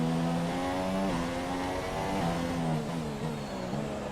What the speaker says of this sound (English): love the sound of this car though.